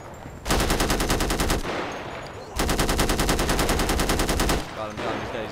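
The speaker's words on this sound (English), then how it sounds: "we're getting shot from the back" Sustained automatic gunfire rips through a GTA 5 zombie mod battle as raiders attack a base, two long, loud bursts of rapid shots separated by a short pause and tapering into scattered fire.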